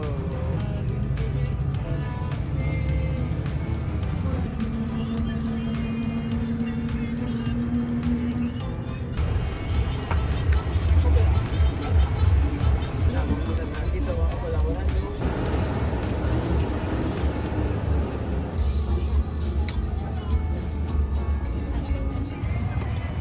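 A car speeds along a road in Guatemala and overtakes other vehicles, its engine and road noise rumbling steadily from inside the cabin with a surge midway and voices faintly in the background.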